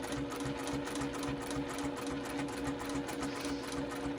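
A sewing machine hums and clatters steadily throughout as it stitches down an EPP hoop wall hanging, with an even, continuous mechanical rhythm at low level and no talk.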